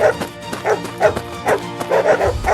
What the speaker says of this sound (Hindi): कुछ जंगली कुत्ते आर्यन के पीछे पड़ जाते हैं।